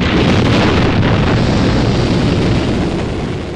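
Rocket ignition in the James Bond film You Only Live Twice: a loud, continuous roaring rumble, dense and full, holding steady before easing slightly at the end.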